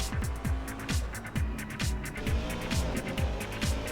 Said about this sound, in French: Et Loïc Tenitri, sans difficulté, vient doubler la Porsche.